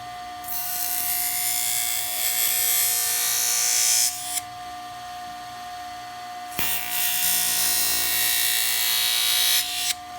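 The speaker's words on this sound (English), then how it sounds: "Sharpen this putty knife real quick here." A bench grinder sharpens a plastic putty knife, giving a loud, steady high-pitched whine that sags in the middle and then surges back at full strength.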